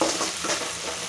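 Ginger garlic paste masala fries and sizzles in a pan on low heat, a steady hiss with soft stirring scrapes, nearby and uninterrupted.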